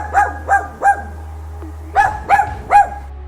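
A dachshund barks six times close by, three quick yips, a short pause, then three more, loud with a slightly whiny edge.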